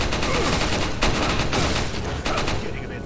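Gunfire rattles in the video game Resident Evil 4, a loud burst of rapid repeated shots with several sharp cracks standing out, dense and close, tailing off at the end.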